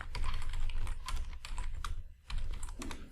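Rapid typing on a computer keyboard while entering Python code at a command prompt, dense close clacking keystrokes in quick bursts with a short pause near the end, no speech.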